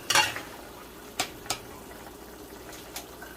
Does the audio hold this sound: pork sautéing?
yes